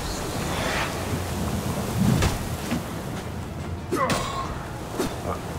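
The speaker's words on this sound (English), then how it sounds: "Not the storm again." A thunderstorm in Assassin's Creed Origins brings a steady wash of wind and rain, with low rumbles and a few sharp crackling bursts. Gameplay noises come through on top of the storm.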